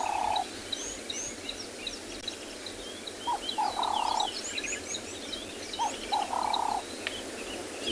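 Cape turtle doves call repeatedly at sunrise on a Kalahari safari, short rhythmic coos that come in small clusters over a constant hiss of background ambience, with chirps from other birds scattered through.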